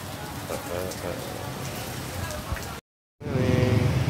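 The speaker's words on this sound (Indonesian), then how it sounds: "Tiada hari tanpa hujan." Steady rain falls in Bandung as a dense, even hiss of drops on a surface, with a voice talking over it before a brief dropout and a return of the same downpour.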